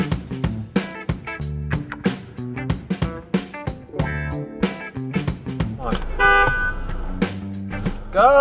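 Car horn honking at a driver who won't turn right on red at an intersection, several short toots followed by a longer sustained blast near the end, over steady traffic and music-like tonal layers.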